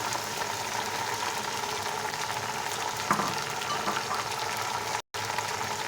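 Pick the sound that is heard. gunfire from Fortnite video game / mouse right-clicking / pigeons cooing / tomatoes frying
tomatoes frying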